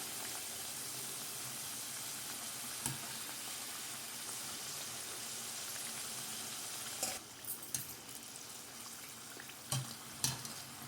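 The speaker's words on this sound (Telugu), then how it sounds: "గోల్డెన్ బ్రౌన్ కలర్ వచ్చే వరకు కూడా వీటిని ఫ్రై చేసుకోవాలన్నమాట" Dry fruit kajjikayalu, stuffed sweet dumplings, deep frying in hot oil until golden brown, a steady close sizzle and bubbling hiss with a few sharp clinks and stirs of a utensil toward the end.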